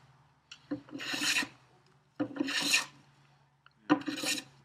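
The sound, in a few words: hand plane shaving a wooden workbench top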